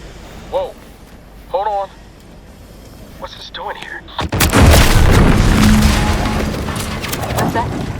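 A loud explosion in The Outer Worlds 2 video game erupts suddenly after brief speech, followed by a long rumbling, crackling aftermath of debris and roar that fills the scene.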